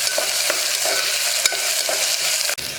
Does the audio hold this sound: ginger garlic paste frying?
yes